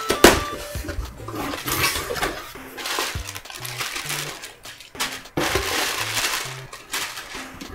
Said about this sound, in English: And this one came with air bubbles.